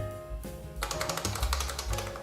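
Keys clack on an IBM XT keyboard in a quick burst of close, sharp mechanical strikes that follows a short pause, loud and alone without any voices.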